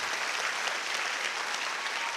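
A church congregation applauds together during a worship service, producing a dense, even wash of clapping that holds steady throughout at moderate volume.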